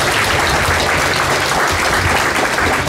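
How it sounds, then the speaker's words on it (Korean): Loud, continuous applause from the audience at a Korean literary society's book launch and award ceremony in Atlanta, a dense wash of clapping with no gaps. "이분들 위해서 다시 한번 다 같이 박수 한번 쳐주십시오"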